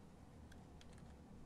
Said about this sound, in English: I gotta type it up on the keyboard.